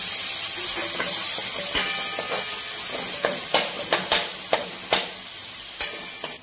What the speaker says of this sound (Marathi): आपण बारीक चिरलेली टोमॅटो टाकून घेऊया यामध्ये